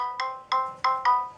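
A smartwatch's anti-lost feature sets off the phone's ringtone, a bright electronic tone struck four times in an even rhythm, each note ringing and decaying. It is loud and close with no voices.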